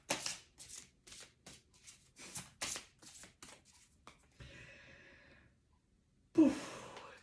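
Oracle cards are shuffled in quick, crisp bursts of riffling, followed by a softer sliding sound and a sharp flick as a card is drawn, close and quiet, with breathy sighs in between.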